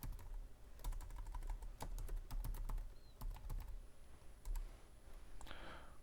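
Keys clatter on a computer keyboard in irregular bursts of close, crisp taps with short pauses between, quiet room tone underneath and no speech.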